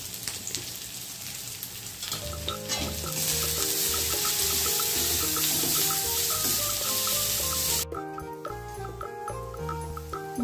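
Onion masala with cumin powder and salt sautéed in a pan, a strong close sizzle swelling midway with stirring scrapes and a faint tonal clatter, then dropping back quieter near the end, no speech.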